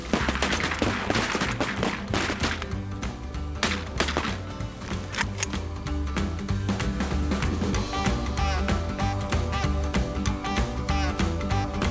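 Shotguns fire at waterfowl in a rapid volley of overlapping sharp blasts from several hunters, loud and close, continuing densely throughout.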